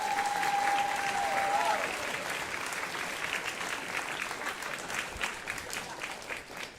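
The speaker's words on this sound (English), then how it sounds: "Let's give them a huge round of applause." Sustained applause from a tournament crowd at a First Tech Challenge robotics league event, a dense, steady wash of clapping that fades slightly toward the end, with a brief electronic tone at the start.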